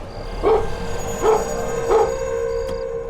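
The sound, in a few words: dog barking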